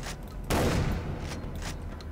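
A single loud gunshot from a scoped rifle in Far Cry 3 on master difficulty, a sharp burst that decays into a rumbling tail, with no talk.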